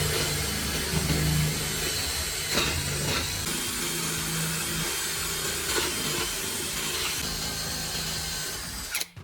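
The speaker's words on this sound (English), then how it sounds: "Then drill holes slightly smaller than the bottleneck." A power drill bores holes in a plastic bucket, a steady whirring grind running nearly the whole time with slight shifts in pitch as the bit bites, close and loud, with no voices.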